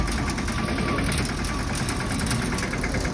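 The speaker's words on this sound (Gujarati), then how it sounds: "આ ટ્રેક્ટરમાં મિની માં અવાજ બહુ આવે ટ્રેક્ટરનો" A mini tractor engine runs steadily nearby, a constant low rumble with a faint rhythmic chug and no pauses.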